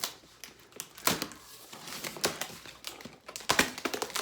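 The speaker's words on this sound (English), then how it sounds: "Go ahead and get this cut open so we can see what she's looking like" Cardboard of a Team Associated DR10 RC car kit box being cut and torn open, a close series of irregular scraping, crinkling and ripping bursts, with no talking.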